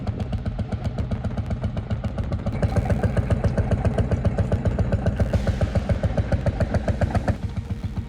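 A vintage Ursus C-45 tractor engine runs steadily, a loud, close, rhythmic low thumping of regular firing pulses that grows slightly stronger partway through, with no talk.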